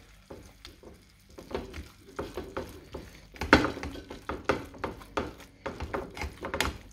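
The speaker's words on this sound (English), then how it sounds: "So just mixing it, press it a bit so there's no clotting." A spoon mixes and presses lot wara marcha in a pan with the heat turned off, giving repeated soft scraping thuds in an irregular rhythm, close and moderately loud.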